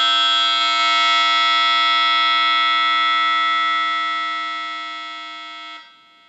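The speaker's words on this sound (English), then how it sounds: "When you get your alert initially, it'll be louder, and then it'll actually drop the volume down a little bit" A Max360 radar detector sounds its alert as one sustained, loud electronic tone. The AutoMute feature then lowers it steadily until it cuts off near the end, with no voices.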